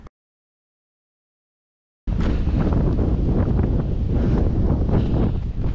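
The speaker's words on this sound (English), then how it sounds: "It is a little windy right now" Strong winter wind buffets the microphone outdoors in bitter cold, a loud, steady, dense roar that starts abruptly after a couple of seconds of silence and continues without talk.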